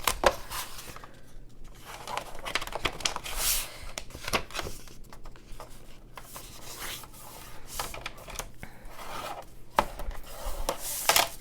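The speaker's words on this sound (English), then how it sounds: "instead of cutting the edge, I was thinking maybe I could rip it" Folded paper page being torn by hand along the edge for a rough deckled look, a series of soft close ripping and rasping bursts in quiet, with no talking.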